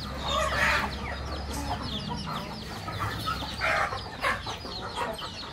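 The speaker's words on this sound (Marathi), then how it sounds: "कोंबडे पाणी पिते." Backyard poultry cluck nearby in short, overlapping bursts while drinking water, with one louder call standing out against a steady low hum and no talking.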